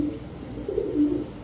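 A Miyana pigeon coos close by in two soft, low throaty phrases, with nothing else heard.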